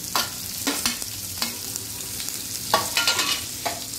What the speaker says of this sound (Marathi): तर ह्याला थोडंसं मी सॉटे करून घेतोय, जोवर हा कांदा नरम पडला पाहिजे थोडा